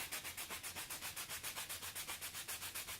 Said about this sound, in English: going in with a sanding block if need be, just taking it down to a straight edge if possible